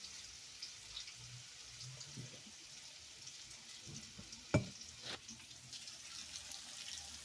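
Two sweet potatoes cut into fries frying in seasoned oil in a pan, giving a steady, faint, soft sizzle with a couple of brief clinks near the end.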